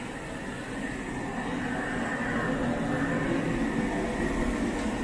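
A big blower runs to dry freshly cleaned upholstery, giving a steady, loud broadband roar that holds constant throughout with no pauses.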